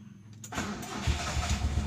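A car engine is started: a short cranking burst, then the engine catches and settles into a steady, close, low idle rumble.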